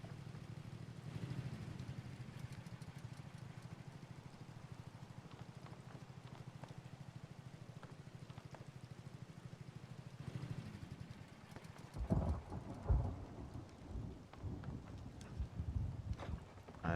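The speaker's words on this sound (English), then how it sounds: "so the rain's happening, so that means this is about to close" Rain and thunder in the video game Rust: steady rain patters softly for a while, then heavier low rumbles and thuds build in, like distant thunder rolling under the downpour.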